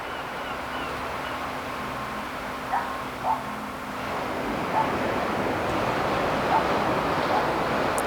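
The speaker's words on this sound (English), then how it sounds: "So I hope you can hear the waves in the background" Ocean waves wash steadily onto the shore as a soft, continuous surf hiss, with faint brief splashes standing out now and then and no voices.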